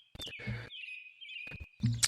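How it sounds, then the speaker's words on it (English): Outdoor birds chirp near a porch, a sustained high whistling call joined by short bursts of chirps, fairly close and clear with no speech. "The birds are chirping."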